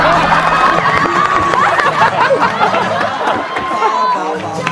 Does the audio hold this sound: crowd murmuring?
yes